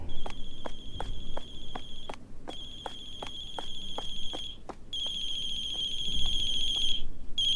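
Electronic telephone ringtone from a phone in the Chilla's Art horror video game, a bright repeating trill in short pulsed bursts with brief pauses, loud and alone over a low background hum.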